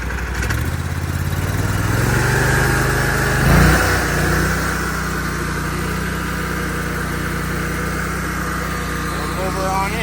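An Oscar 336 portable sawmill engine revs up, a loud steady drone that swells to a peak mid-clip and settles back to a strong running roar throughout.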